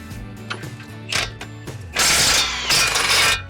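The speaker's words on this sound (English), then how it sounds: "Now we'll remove the upper control arm." A ratchet wrench loosens the upper control arm bolt on a Ford Bronco fitted with Fabtech parts, giving short clicking bursts, then louder sustained ratcheting close up.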